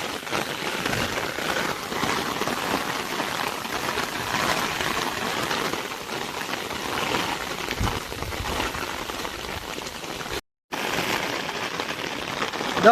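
Floodwater after heavy rain rushing over a bridge on a village road, a dense, steady wash of water noise mixed with rain, continuous throughout with a brief dropout near the end.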